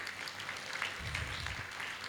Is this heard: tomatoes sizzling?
no